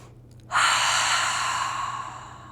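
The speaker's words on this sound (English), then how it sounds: "Give yourself a cleansing breath." A long, audible exhale through the mouth in a gentle yoga class, a single close, breathy sigh that starts suddenly and fades slowly over about two seconds.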